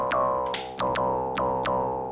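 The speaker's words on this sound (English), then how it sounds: "If you would use a normal Moog filter, it would sound like this." Analog mono synth played through a normal Moog-style filter, five evenly spaced bright plucked notes with a sharp attack that settles into a steady buzzy tone, alone and fairly quiet.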